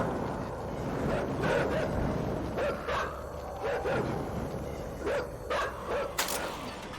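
Stray dogs in the dark side-scrolling video game INSIDE bark repeatedly, several sharp yips and barks at irregular intervals over a low ambient rumble, some nearer and louder than others.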